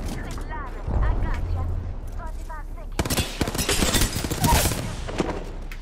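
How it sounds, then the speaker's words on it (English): Rapid gunfire from enemies in Apex Legends crackles in dense bursts under a player's excited talking, the shots growing thick and loud in the second half. "The enemies are shooting at me"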